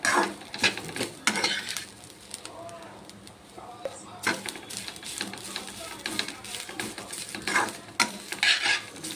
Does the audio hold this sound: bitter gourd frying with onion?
yes